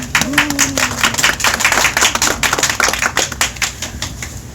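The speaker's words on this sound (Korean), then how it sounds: "힘찬 박수 부탁드립니다" A crowd at an outdoor Seoul political campaign gathering claps vigorously, dense loud rapid applause that swells and continues steadily for several seconds.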